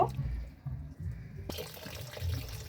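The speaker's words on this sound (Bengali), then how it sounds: "এগুলো হচ্ছে আমি ভালো করে ধুয়ে নিব" Water running and splashing as cow trotters are rinsed and washed in a kitchen, a steady close wash of liquid with a sharp knock partway through.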